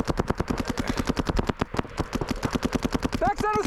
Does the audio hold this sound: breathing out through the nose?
no